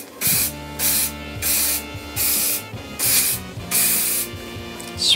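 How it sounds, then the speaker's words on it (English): An aerosol can sprays in five or six long bursts of loud, close hiss with short pauses between, used to strip foil during a DIY planar magnetic headphone build near a printer's linear rails, with faint mechanical hum beneath. "Hope I'm not spraying too much on my linear rails"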